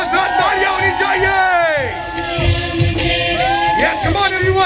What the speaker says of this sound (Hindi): ओहो, तालियां होनी चाहिए।